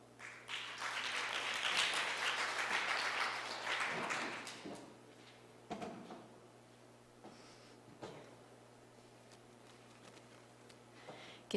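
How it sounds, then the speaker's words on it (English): Symposium audience applauding a university presenter, a swell of clapping that builds quickly, holds for a few seconds and then fades out, leaving a quiet room with a few scattered knocks and shuffles. "Please give her a round of applause."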